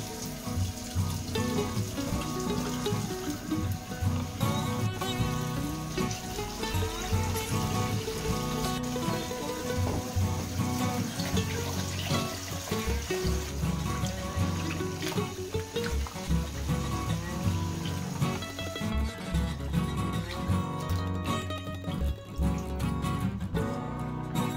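Running water pours steadily into a kitchen sink, filling it with hot water and bleach to soak placemats. The splashing is continuous and close throughout, with clattering mixed in.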